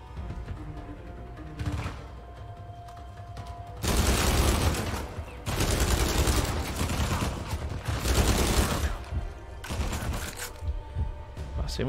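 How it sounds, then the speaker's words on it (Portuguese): Enemy gunfire in Uncharted 4, with bursts and a sustained fusillade of shots from about the four-second mark onward, loud and dense, with scattered rattling mechanisms and game ambience underneath. "Cadê o cara que tá me atirando?"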